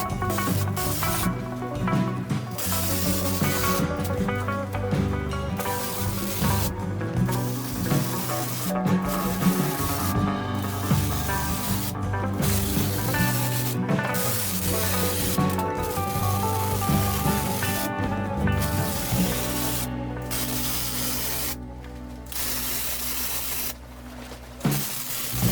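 Welding of steel floor straps on a Nashorn tank destroyer restoration, a steady crackling sizzle broken by short pauses between welds, running close and continuous.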